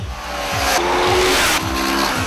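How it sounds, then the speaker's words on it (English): A loud, throbbing exhaust note from a 2011 Kawasaki Ninja's 649cc engine with an uneven firing sequence, giving an uneven, lumpy, V-twin-like pulse, revving up and holding steady close by. "this 649cc motor has an uneven firing sequence, and that's what gives it that characteristic exhaust note"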